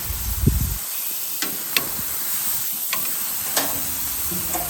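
Steaks sizzling on a grill while being flipped, with a steady hiss throughout, a rustling scrape near the start and several sharp clicks and taps of tongs against the grate.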